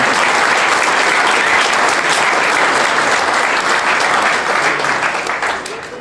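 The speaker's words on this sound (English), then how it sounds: "give it a round of applause" Loud, close, dense applause from a crowd at a rugby squad numbers launch, continuous clapping that starts to die down near the end.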